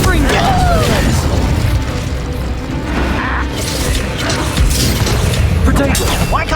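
Confringo and Incendio spells cast in the Hogwarts Legacy video game, a steady clatter of fiery booms, pops and crashes during a dense fight, with voices shouting throughout.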